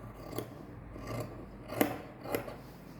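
Scissors cut blouse fabric in a few quiet, close snips spaced irregularly over a faint background hiss.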